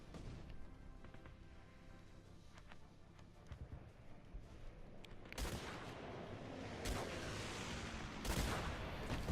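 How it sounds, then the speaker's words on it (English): Gunfire and bombing-run explosions in the video game Guns Up, a rattle of distant shots followed by several loud, broad blasts that rise toward the end. "if I can get this bombing run to place, maybe I can hit a couple of these snipers"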